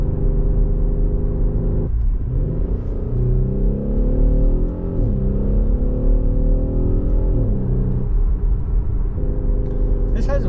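A 2019 Audi SQ5 with valved exhaust revs its engine through several rising and falling sweeps, a deep throaty drone heard close with a car interior feel.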